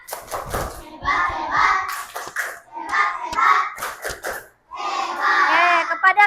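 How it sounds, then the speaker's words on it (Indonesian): A classroom of children doing a 'tepuk hebat' clapping cheer for group 2: bursts of rhythmic hand claps mixed with children chanting in unison, coming in several short phrases. "kita berikan tepuk hebat untuk kelompok 2"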